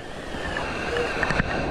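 Floodwater rushing steadily around a flooded house, a continuous broadband wash with a few brief splashy bursts near the end, fairly close and with no talk over it.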